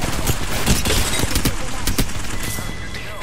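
Rapid gunfire in Apex Legends on Kings Canyon, with sharp repeated bursts crackling in quick succession at close range over a busy game background, loud throughout.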